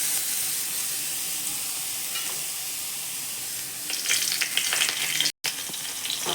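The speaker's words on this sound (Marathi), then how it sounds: "आता आपण याच्यात खिसून घेतलेले बीट टाकणार आहोत." Grated beetroot frying in a pan for homemade beetroot halwa, a loud, steady sizzle and hiss that grows busier and crackly toward the end as it is stirred, with a brief cut near the finish.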